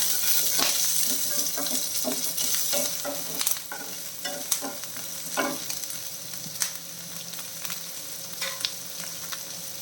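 Green chillies fry in a pan for a snake gourd dish, giving a close, steady sizzle with occasional spoon-stirring scrapes and light clinks against the pan.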